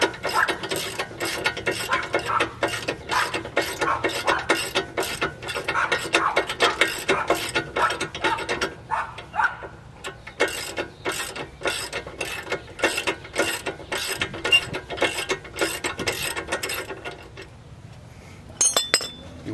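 A ratchet loosens an 18 mm upper control arm bolt on a Dodge Magnum, giving long runs of rapid, evenly spaced clicks close by with a brief pause midway.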